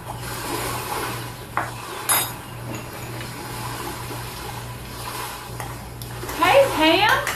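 Chopped red onion and celery are added to a pot and stirred, producing a soft continuous sizzle and stirring rustle with a few utensil knocks and a louder scraping flurry at the end.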